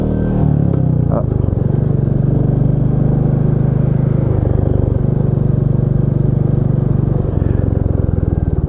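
A Royal Enfield Meteor 350 motorcycle being ridden, its engine giving a loud, steady, close-up drone with a brief clatter near the start, then a constant running note to the end.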